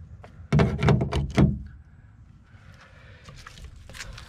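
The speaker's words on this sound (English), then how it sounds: "So you kind of pull it forward" Plastic clips on a 2013 Honda Fit driver door panel snap loose in a quick cluster of sharp pops and clunks, followed by quieter handling rattles and knocks close by.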